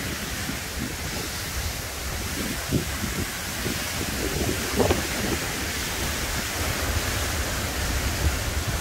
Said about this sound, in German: jetzt kommt gerade der Regen